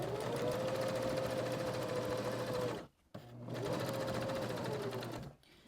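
A sewing machine stitches a seam around the edge of a journal cover, running in two steady, even bursts of needle whirring separated by a brief stop, close and loud.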